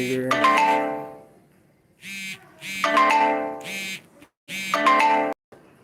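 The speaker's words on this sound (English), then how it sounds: "My phone is blowing up." A phone rings with a repeating melodic ringtone, bursts of tonal chimes broken by brief gaps, alongside shorter notification pings, all loud and close with no talking.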